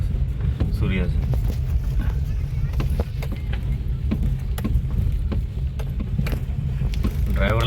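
A car drives along an unrepaired village road, its low rumble broken by frequent rattles, clunks and creaks from the bumpy surface, continuous and close.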